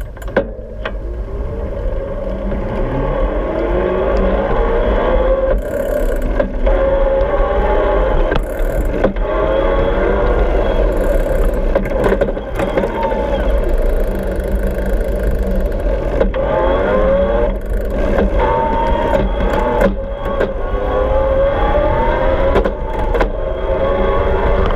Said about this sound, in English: you can hear the motor getting higher pitched and louder as I switch down the gears